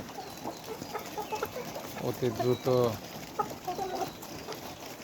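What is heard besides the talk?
layer chickens clucking in poultry house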